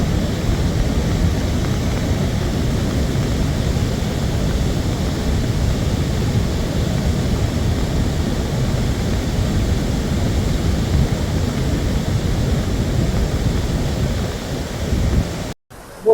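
The Barmukhi waterfall in the Satpura hills of Akrani taluka pours down as a loud, continuous, close roar of rushing water that holds steady throughout before cutting off abruptly at the very end.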